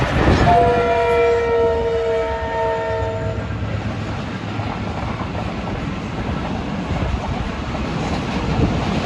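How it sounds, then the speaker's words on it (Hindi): The 26 Down Bahauddin Zakariya Express, hauled by a GMU 30 locomotive, passes Ranpethani station in Thatta District, Sindh. It opens with a loud, sustained multi-tone horn blast, followed by a steady rumble and rattle of coaches rolling by close. "तो ये थी आज की हमारी 26 डाउन बहुद्दीन ज़किया एक्सप्रेस"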